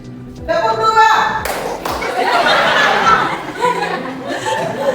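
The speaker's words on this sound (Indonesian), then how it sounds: "Tepuk dua." In a classroom, a group of students claps together after spoken cues, a sharp burst of hand claps followed by a noisy wash of clapping mixed with voices, chuckles and laughter.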